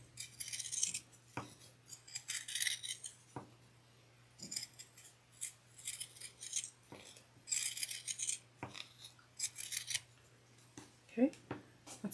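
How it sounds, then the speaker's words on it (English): Pinking shears cutting fabric around stitches for a clutch wallet: repeated crisp snipping bursts come in short groups with pauses between them, close and clear, while a steady low hum runs underneath. "I'm going to get my pinking shears and I'm going to pink around"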